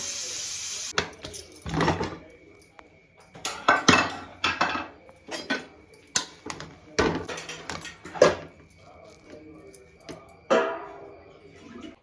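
Plates and dishes are handled at home while tomato bath is served for a family meal, with sharp clinks and clatters coming in irregular close bursts and a little talk in between.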